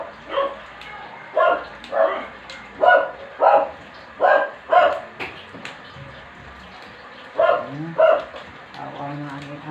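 A dog barks repeatedly in short, spaced bursts, fairly close, while a person talks intermittently underneath.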